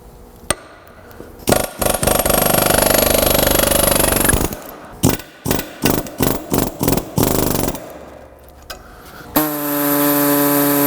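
Power cutting tool slicing a metal front end part from a GMT400 truck, loud close grinding bursts: one long cut, then a series of short choppy cuts, and a steady whine at the end.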